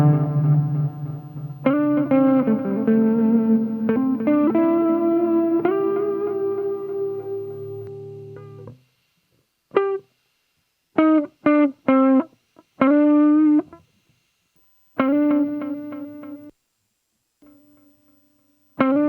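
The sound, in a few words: KMA Cirrus guitar pedal reverb and repeats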